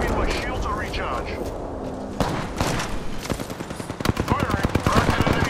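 Dense gunfire in an Apex Legends ranked battle royale match: sustained rapid shots and impacts, loud and close, with rattling bursts intensifying toward the end while a voice talks over the action.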